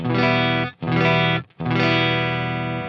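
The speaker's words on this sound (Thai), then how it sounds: "เรามาลองกันเลยเสียงคลีนประมาณนี้" Three sustained electric guitar chords in a clean tone, each ringing out with brief gaps between them, played alone and fairly loud.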